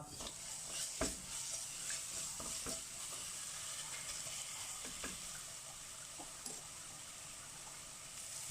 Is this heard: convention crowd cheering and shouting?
no